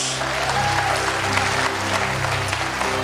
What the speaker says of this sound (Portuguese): Dá um aplauso ao Senhor então aí